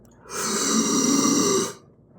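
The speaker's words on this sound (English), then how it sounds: "If you just put an H before you breathe, you'll heave. It sounds like this." A single long, forceful breathy heave with a rough, airy rasp, close and loud, lasting about a second and a half before trailing off.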